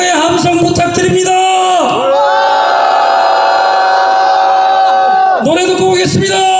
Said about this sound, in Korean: 전방에 함성 부탁드립니다.